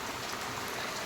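Heavy rain pours down steadily, a dense, even hiss without pause or variation through the whole short stretch, with no voices present.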